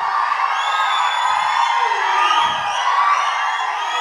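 Fans at a live film event featuring Raghava Lawrence raise a continuous roar of cheering, whoops and shrill whistles. The dense crowd noise stays loud and steady for the whole stretch.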